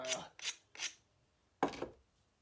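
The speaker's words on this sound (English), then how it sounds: "I'm gonna grind it, hit both sides of it now." Flint being ground and struck during flintknapping, heard as four short raspy scraping strokes, three in quick succession and one after a brief pause, fairly close and without talk.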